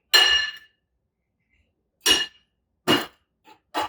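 Seasoning of onion powder, oregano and red chili being mixed in a bowl for ossobuco, heard as a few separate sharp clinks and scrapes of utensil on dish with silent gaps between, no talking.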